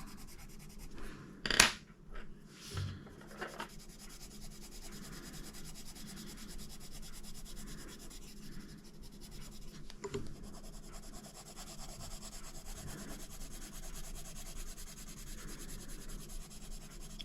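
Coloured pencils layering on paper, a soft continuous scratchy rubbing of the pencil tips across the paper's tooth, close and quiet, with a couple of brief knocks near the start.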